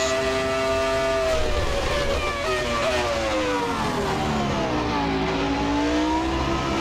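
A Ferrari F2004 Formula 1 engine in Assetto Corsa screams steadily around Monza's 1988 layout, its high whine sliding down and climbing back as gears shift, loud and close throughout.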